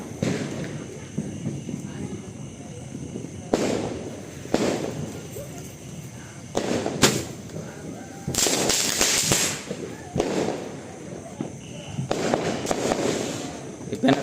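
Diwali firecrackers, a seven-shot item, go off outdoors in several sharp, loud bursts spread across the stretch, with crackling between bangs and people talking in the background.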